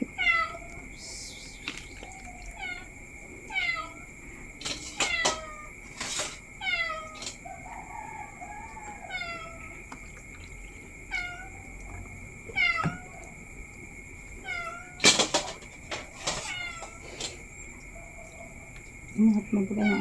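A domestic cat meows repeatedly indoors, a run of short, fairly close calls scattered over twenty seconds with a few sharper clatters and light household noise between them.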